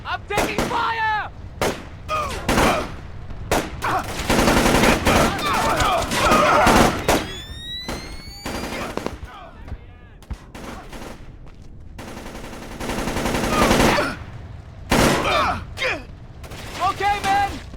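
Heavy gunfire in a Splinter Cell: Chaos Theory firefight: bursts of automatic fire and scattered single shots come in waves, loud and close, with shouting voices mixed in.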